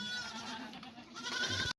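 Goats bleating at a highland summer pasture, a few close, wavering calls overlapping through the short stretch before a sudden cutoff.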